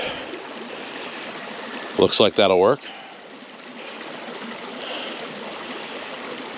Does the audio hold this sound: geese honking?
no